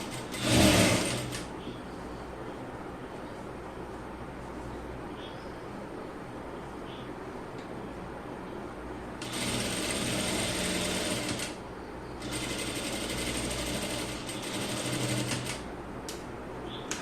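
A sewing machine stitches the seat-length seam of a child's pair of pants in bursts of steady, loud mechanical whirring. A longer run near the end follows a mostly quiet stretch.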